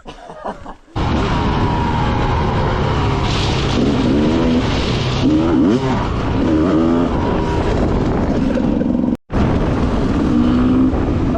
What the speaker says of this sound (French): Regarde où on est en moto. On est en pleine ville, en enduro.